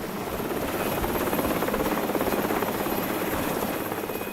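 A helicopter flies close by with a loud, steady, rapid rotor chop and a whining turbine drone that holds constant throughout.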